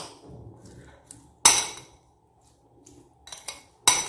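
Masala sweet corn being stirred with salt and lemon juice, a spoon scraping and clinking sharply against a bowl in a few distinct knocks separated by quieter rustling, close up.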